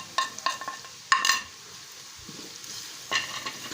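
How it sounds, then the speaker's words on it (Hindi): Cumin and nigella seeds frying in oil crackle in short bursts as a spoon stirs them, sharp spatters at the start and again later over a quiet background sizzle. "ज़ीरा और कलवंजी को ऐड करेंगे इसमें और हल्का सा चम्मच चलाएंगे"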